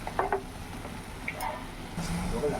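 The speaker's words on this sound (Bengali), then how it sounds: "এবার এটা দিয়ে একটু নাড়াচাড়া করে নামিয়ে দেবো" Kurol greens with fried onion and garlic are stirred in a pan: a quiet, soft sizzle with a few scraping, stirring strokes and light clinks, close by with no talking.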